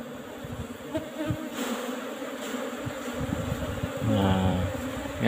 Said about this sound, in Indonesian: Ini lebah pekerja, anu lebah drone